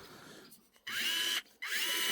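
A power drill whines loudly in two long bursts, grinding into a steel rail with a high-pitched screech, separated by a brief pause.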